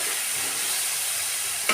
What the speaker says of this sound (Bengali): সর্ষেটা দেওয়ার পরে আমি একটু নেড়ে নেবো।